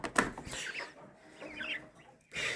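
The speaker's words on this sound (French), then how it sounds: "Donc on a toujours mes cailles reproductrices." Breeding quails in a farm enclosure give a few close chirping and clucking calls, short bright bursts with soft rustling between, no talking.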